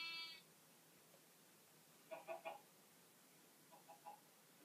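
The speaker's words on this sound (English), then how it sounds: "And here is sheep." Sheep in Minecraft Pocket Edition bleat in two faint, short bursts of a few wavering calls each, the first louder and the second softer, against near silence after a brief tone at the start.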